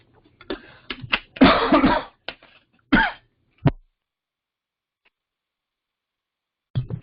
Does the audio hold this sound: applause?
no